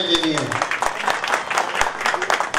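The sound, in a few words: audience applause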